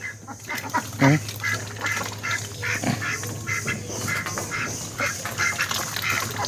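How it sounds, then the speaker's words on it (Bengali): Farm ducks kept shut in a pen quack repeatedly and close by, overlapping calls forming a busy, continuous chorus with no talking. "দেখেন এই যে হাঁস প্রতিদিন বন্ধ করে রাখা হচ্ছে"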